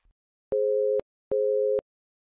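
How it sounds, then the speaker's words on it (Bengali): Two evenly spaced electronic beeps, each a steady half-second tone, sound clearly in quiet, like a phone line signaling the call has ended. "অঞ্জলি এই বলে ফোনটা কেটে দিল।"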